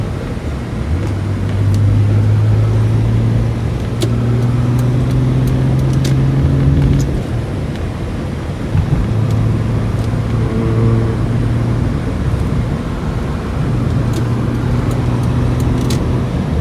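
A 1980s Toyota Cressida 2.8 twin-cam engine idles and revs in a steady low drone, rising in pitch a few times over continuous road-like rumble, with no talking.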